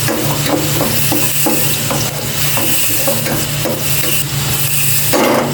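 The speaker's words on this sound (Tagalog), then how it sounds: "Igisa ko na itong bawang." Garlic sizzles steadily in a hot pan while being stirred, with a constant loud frying hiss and small scraping knocks of the utensil against the pan.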